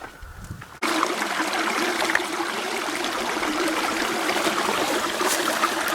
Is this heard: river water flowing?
yes